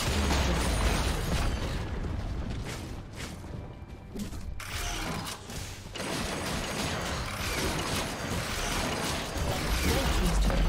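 Explosions and crunching mechanical impacts from a turret being destroyed in League of Legends, a dense, loud and continuous clatter of game effects with rumbling bursts that stays busy throughout.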